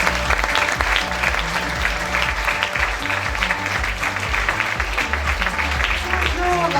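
Sustained audience applause fills the room at a charity fashion show against cancer, dense steady clapping with a low hum of music or voices underneath throughout.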